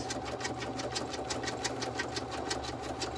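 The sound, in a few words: embroidery machine stitching a vertical wallet in the hoop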